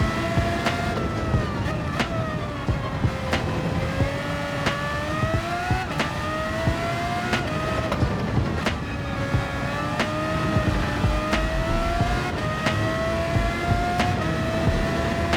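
A formula race car in Gran Turismo 7 screams at high revs, its engine note rising and falling through repeated gear shifts, loud and continuous with no pauses.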